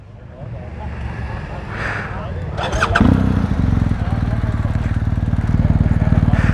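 A BMW R1250 GS motorcycle engine with standard exhaust idles steadily nearby, then revs up around the midpoint and settles into a louder, throbbing run that continues to the end.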